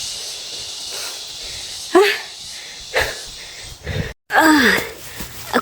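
Heavy, breathy panting from a person winded after walking uphill on a farm in the province, with several loud gasping breaths in bursts over steady background hiss.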